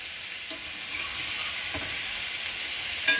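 Yellow squash and zucchini sizzle in a covered pan, a steady close frying hiss with a few faint clicks and pops.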